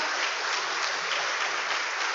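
A church congregation applauds a pastor during a sermon, steady dense clapping filling the space for a couple of seconds without pause.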